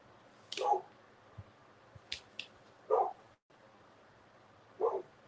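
A dog gives a few short, sharp barks or mouthy yips, spaced out with pauses between them, fairly close and moderately loud over a quiet indoor background.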